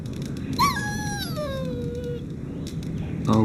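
A dog in Dragon Age: Origins lets out a drawn-out, falling whine, one high pleading cry that slides down and fades, followed by faint ambient noise.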